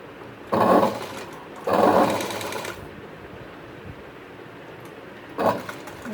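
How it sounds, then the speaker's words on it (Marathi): A sewing machine stitches the lining onto a blouse neckline in short close bursts: two whirring runs near the start, then a pause and a brief third run at the end. "आता ह्या साईडने आपल्याला शिलाई मारायची"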